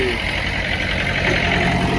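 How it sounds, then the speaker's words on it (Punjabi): Steady, loud rumble of a tractor engine running close by, with a voice talking over the constant drone. "ਟਰੈਕਟਰ ਚੱਲਣ ਲੱਗਾ ਹੈ"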